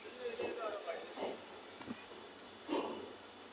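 Low rumbling hiss inside a moving night train near Lumding Junction, Assam, bound for Guwahati, steady and muffled, with a voice speaking intermittently over it.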